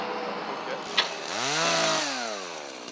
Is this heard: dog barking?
no